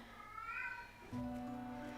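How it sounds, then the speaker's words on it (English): A cat meows in a room, with a short call partway through and a steadier tone continuing after it, moderately loud and close, with no talk over it. "My cat's going crazy again."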